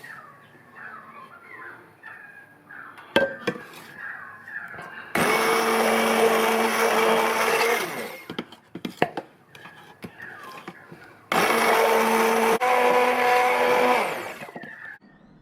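An electric mixer blends a vodka drink in two loud, steady whirring bursts, each several seconds long, separated by quieter clinking and handling sounds.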